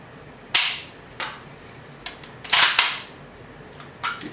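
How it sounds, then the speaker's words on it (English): A Romanian SKS rifle's trigger clicks sharply several times as it is pulled and reset, crisp close snaps separated by short pauses, no talking. "Listen to this trigger again."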